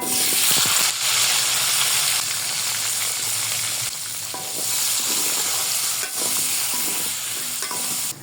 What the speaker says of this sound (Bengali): এখন দিয়ে দিব কুমড়ো।